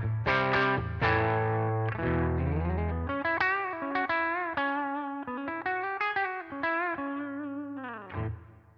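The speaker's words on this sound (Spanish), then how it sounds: "Y ahí ya tenemos el sonido de nuestro P90 de puente" A Line 6 Variax Goldtop '56 electric guitar modelling a bridge P90 pickup plays a run of clear single notes and a few chords, bright and slightly driven, with a final strum at the end.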